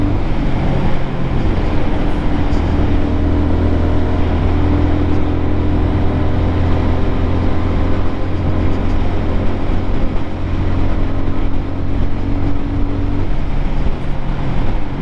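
A brand-new Lifan KPM 200 motorcycle climbs a hill at 55 mph during its break-in ride, giving a loud, steady engine drone with constant wind and road rumble and no talk.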